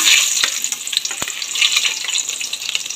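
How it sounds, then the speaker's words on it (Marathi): Garlic frying in hot oil in a pot for veg fried rice, a loud, close, continuous crackling sizzle with a couple of sharp pops, no talking. "तेल गरम झालेलं आहे, लसूण टाकून घेऊया"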